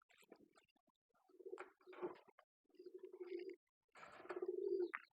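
A sick dove coos close up in several soft, low, rolling phrases separated by short pauses, alone in a quiet setting.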